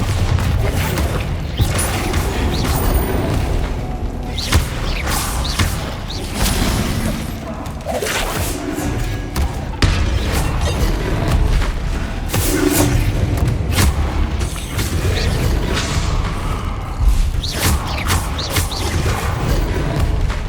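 Loud magical explosions and blasts from spells cast in a Hogwarts Legacy duel in the Moonstone Garden, a near-continuous barrage of booms, thuds and shattering impacts with no voices.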